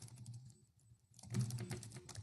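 Computer keyboard typing, a password being entered into a login form field, heard as quick irregular key clicks close up, pausing briefly midway before a denser burst of keystrokes resumes.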